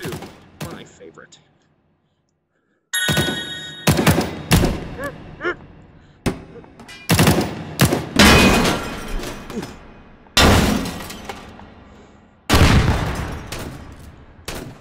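Repeated loud gunshots and explosions in the VR shooter H3VR, sharp booms spaced a second or two apart with a short quiet stretch early on; faint voices sit underneath.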